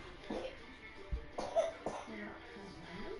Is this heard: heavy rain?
no